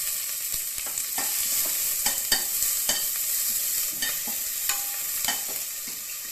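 Crushed small onions with cinnamon, cloves and a bay leaf frying in oil for mutton rib bone soup, a steady sizzle broken by repeated sharp scrapes and clacks of stirring, close and fairly loud throughout, with no talking.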